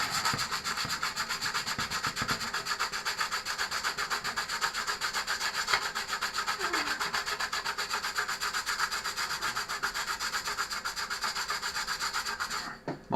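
A surface is sanded by hand while a worn 746 is restored, with continuous rhythmic rasping strokes, close and steady, for about thirteen seconds.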